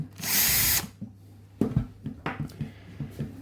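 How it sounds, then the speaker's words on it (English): A power drill whines loudly in one short burst while drilling into a seized bolt head on a Triumph motorcycle brake caliper, then stops, followed by several lighter knocks and taps of metal and tools. "when you found the right drill bit, you drill into that head"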